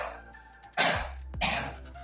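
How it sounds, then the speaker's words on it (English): A deliberate closed-throat cough demonstrated for efficient breathing, sounding as two sharp, loud coughs about half a second apart, close to the microphone with no talking. "In coughing, you will be doing it with the closed throat."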